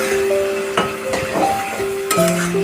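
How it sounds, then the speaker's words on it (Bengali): Capsicum and onion sautéing with a spice paste for chili chicken, a soft sizzle under repeated scraping stirs and light clinks of a spatula on the pan, close by, with no talking. "এবার ভালো করে কষছি"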